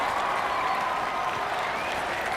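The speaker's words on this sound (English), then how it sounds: "For Gregoire of Montgorgon, let out a roaring cheer" A tournament crowd in The Witcher 3 video game roars and applauds steadily throughout, a dense, loud wash of cheering with no pauses.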